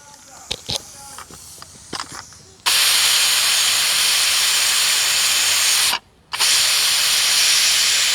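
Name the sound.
pressure cooker with beef hissing steam after whistles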